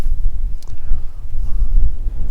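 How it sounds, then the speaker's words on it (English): Strong seaside wind buffets the microphone in loud, gusty low rumbles, rising and falling throughout, with no voices heard. "Of course, it's blooming windy."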